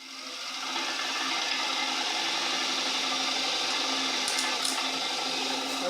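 An electric motor fed 12 volts through a Gigavac contactor spins up and holds a steady hum with a faint whine, with a brief rattle near the end and no voices.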